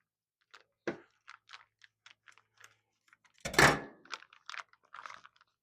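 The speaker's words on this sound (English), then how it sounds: "we're going to take our scissors and open up our bag." Scissors snip open a sous vide bag of butter-poached potatoes in a quiet kitchen: a run of small sharp clicks and taps, then a louder crinkling cut of plastic, followed by more light clicks.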